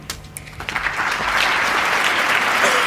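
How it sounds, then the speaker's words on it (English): A knowledgeable Wembley audience at a snooker match featuring Peter Ebdon breaks into applause. Scattered claps swell within a second into full, steady clapping that stays loud through the end. "So this knowledgeable Wembley audience applaud."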